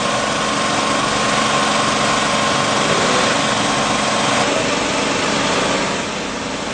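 Motorcycle engines of bikers on a Delhi road, a loud continuous engine drone with steady rumble and vibration, no voices, easing slightly near the end.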